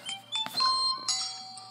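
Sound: doorbell ringing in the video game SpongeBob Moves In

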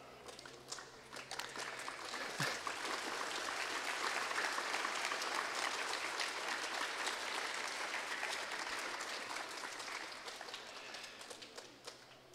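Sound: applause

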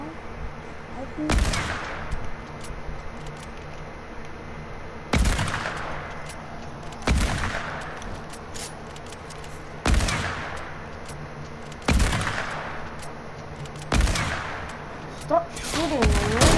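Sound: gunfire in the video game Fortnite

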